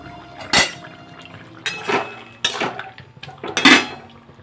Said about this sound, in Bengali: ঢাকনাটা এবার খুলে দেখি ডাঁটাগুলো সেদ্ধ হয়েছে কিনা।